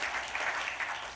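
A church congregation applauding at the close of a gospel meeting: a short, continuous burst of many hands clapping, fairly loud and even, no talk.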